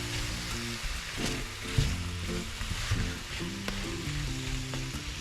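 Apples cook in butter in a pan, a close, steady sizzle and crackle with occasional stirring scrapes and no talk.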